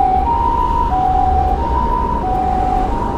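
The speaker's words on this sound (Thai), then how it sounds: "ได้ยินเสียงรถพยาบาลเยอะมากเลยนะทุกคน" An ambulance siren wails in a repeating two-tone pattern, loud and fairly close, over a low rumble of congested traffic on a street near the Imperial Palace in Kojimachi, Tokyo.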